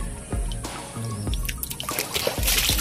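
Water trickles in at a house construction site, a close, splashy dribble with brief drips and sloshes over a few seconds.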